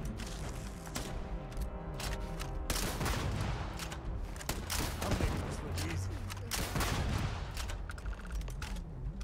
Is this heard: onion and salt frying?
no